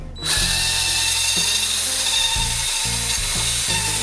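Power drill spinning a 3/8 inch wooden dowel, a loud continuous whining buzz that starts abruptly and runs steadily, with the motor pitch shifting slightly as load changes.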